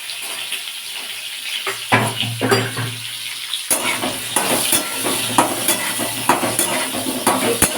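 Potato and cauliflower pieces, seasoned with turmeric and salt, fry in a wok of oil with a loud, continuous sizzle. Repeated clacks of a spatula against the pan punctuate the frying, and a brief low hum comes in early on.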